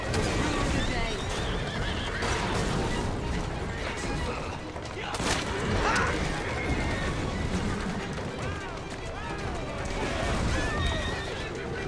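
Horse-drawn carriages in the video game Assassin's Creed Syndicate clatter past with clip-clopping hooves, rattling wheels and repeated horse whinnies, loud and busy, with voices talking over the street noise.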